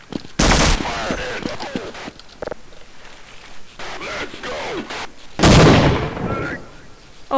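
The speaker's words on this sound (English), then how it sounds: "that machine gun makes people explode" Machine gun fire in the video game Half-Life: Uplink comes in loud, sharp bursts separated by quieter stretches, with a heavy blast near the end.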